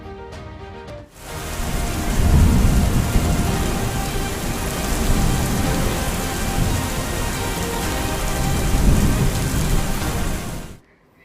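Heavy monsoon rain in Gujarat pours steadily in a dense, loud roar that swells and eases slightly, with a low rumble underneath, then stops abruptly.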